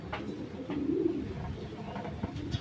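White saddle racing pigeons, a pair, give soft low cooing close by in a loft, with faint background voices and handling noise.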